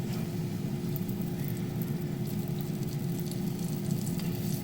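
Cod fillets sizzle in a preheated cast iron skillet over medium heat, giving a steady, close frying crackle with a low hum and no talking.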